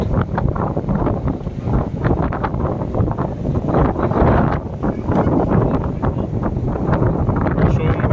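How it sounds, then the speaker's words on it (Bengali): Strong gusty wind buffets the microphone outdoors near a cricket stadium in continuous rough roaring bursts, loud and close throughout. "সুন্দর আর মারাত্মক হাওয়া।"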